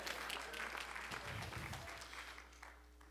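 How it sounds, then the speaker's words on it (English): A church congregation claps hands during a sermon in a short, moderately loud burst over a steady low electrical hum, with a few voices mixed in. "Clap your hands and say yes."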